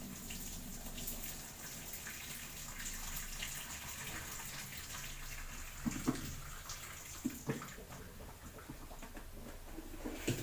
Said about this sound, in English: We drain off the water.